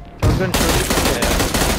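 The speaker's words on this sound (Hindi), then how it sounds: "गन शूटिंग है यार।" Rapid bursts of gunfire from BGMI, the mobile battle royale game, crackle loudly and densely, a near continuous volley after a short quiet start.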